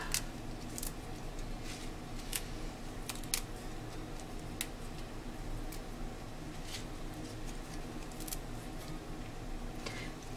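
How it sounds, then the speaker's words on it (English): Peppermint leaves being cut into small pieces over a bowl, heard as faint, scattered crisp snips and clicks over a low background hiss. "now I'm gonna just cut these into a small pieces and just drop it inside the bowl"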